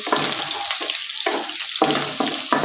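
Garlic and spices for Punjabi-style kadhi pakora fry in a hot pan, a steady close sizzle broken into short bursts as they are stirred, with no talk.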